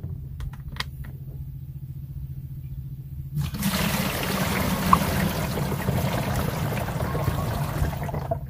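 Five litres of water poured into a knapsack sprayer on an eggplant farm: after a few seconds of low hum, a steady, close rushing trickle of water fills the tank continuously.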